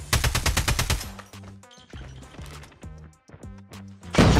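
LK gunfire in Call of Duty Mobile, a rapid burst of loud shots up front, then scattered single reports and game effects, ending in another loud blast.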